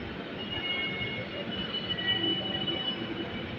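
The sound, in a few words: metro rail train arriving at station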